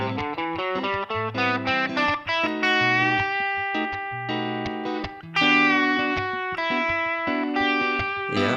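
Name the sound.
guitar note bend with distortion effect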